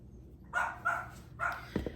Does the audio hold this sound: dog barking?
yes